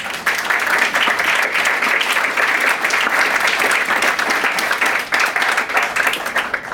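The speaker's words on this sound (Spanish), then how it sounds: "Denle un aplauso a los papás, porfa" An audience applauds the parents at a church gathering in La Sabana, steady dense clapping filling the room from start to finish without a break.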